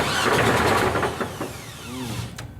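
A LeMons endurance race car with freshly installed solid motor mounts cranks over in quick rhythmic pulses and catches, loud and close, with no talking.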